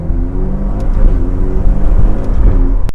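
A Ferrari Portofino's dual-clutch gearbox snaps through a shift while the loud exhaust keeps droning and revving, with a sharp pop from the tailpipe near the end.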